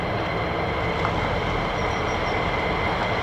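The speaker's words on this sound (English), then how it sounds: "The world's most powerful engine in a fighter jet, the F-35A, the Pratt & Whitney F-135 PW100." An F-35A fighter jet powered by a Pratt & Whitney F135 engine roars continuously and loudly at RAF Lakenheath, a dense, steady rush with no voices.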